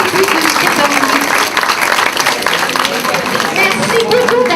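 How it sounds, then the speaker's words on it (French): Sustained applause from an audience at a 40th-anniversary brunch, dense steady clapping with some crowd noise, loud and continuous throughout. "Et vous, Mme Simoneau, vous valez une bonne main d'applaudissement."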